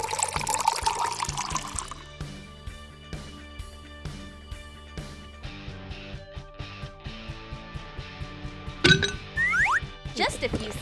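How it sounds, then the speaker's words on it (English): Milk pours into a bottle, a gurgling liquid stream with clinking glass taps, followed near the end by a brief scrape and a squeaky, whistling burst; music plays softly in the background. "Pour milk into the bottle."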